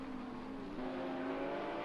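GT3 race car engine in a sim racing game, a steady droning whine holding a sustained tone that steps up in pitch partway through, continuous and fairly close with no talk.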